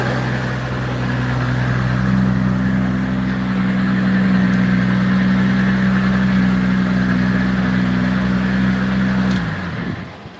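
A 2,000 horsepower car engine runs loud and close with a steady, droning mechanical tone that holds for about nine seconds before dropping off near the end, with no talking.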